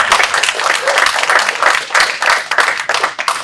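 Audience applause rises at a Philadelphia startup and innovation panel event, a loud burst of many people clapping in quick uneven waves that fills the whole moment with no talk over it.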